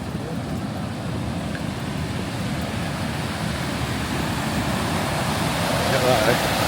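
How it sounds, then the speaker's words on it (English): A flooded waterfall with a heavy volume of water pouring over it gives a steady, broad rushing roar that stays constant and fairly near throughout. "There's a lot more water going over the waterfall."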